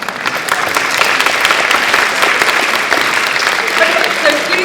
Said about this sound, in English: please join me in yet one more applause for our fabulous speakers